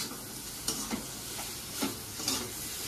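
Diced potatoes and pointed gourd tossed with ground spices including cumin powder sizzle softly in a pan, punctuated by a few scraping stirs of a spoon at irregular intervals.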